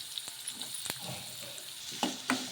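Onions and green chillies soften in a pan with a quiet sizzle, marked by a few sharp clicks and scrapes of a spoon stirring them. No one speaks.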